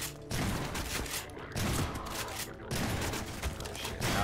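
Repeated shotgun blasts in Half-Life 2 multiplayer combat, several loud bursts spaced about a second apart over dense game noise, with a voice briefly audible in the mix.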